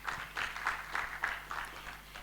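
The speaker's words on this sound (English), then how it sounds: "Another round of applause," Audience applause at a sustainability summit session, a loose round of claps in regular bursts at moderate distance, with no talk over it.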